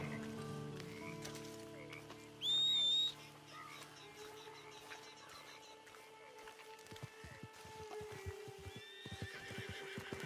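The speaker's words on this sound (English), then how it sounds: "Whistle for my horse." In Red Dead Redemption 2 Online, a loud whistle rings out, then a horse whinnies and hooves clip-clop closer, ending in a run of rapid hoofbeats; faint croaking sits underneath.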